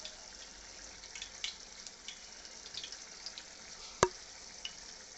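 Mustard oil poured into a hot wok gives a faint, soft sizzle with light crackles, and one sharp pop near the end.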